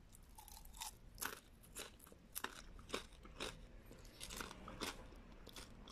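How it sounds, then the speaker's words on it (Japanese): Air-fried sardine bone crackers crunched in close, crisp bites, a steady run of sharp crackling chews with no talking. "聞こえますか、このサクサク音。"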